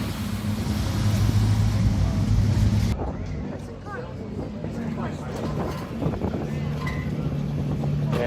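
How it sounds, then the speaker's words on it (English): A BMW rally car pulls away at the Speyside Rally, its engine roaring steadily and loud before fading to a lower rumble among crowd noise, with people talking nearby. "There's the BMW going."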